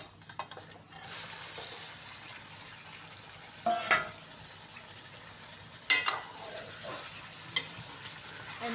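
About 1.5 kilograms of chicken sizzle in a pot with softened onions, a steady frying hiss broken by sharp scraping stirs from a spoon at intervals, close and without speech.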